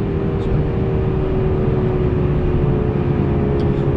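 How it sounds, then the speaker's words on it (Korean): Renault Samsung SM6 engine in sport mode, a steady deep droning hum with a low booming tone and constant level, heard close and alone without voices. "약간 저음에 굵직하면서 좀 둥둥거리는 그런 소리를 조금 이제 키워놨다"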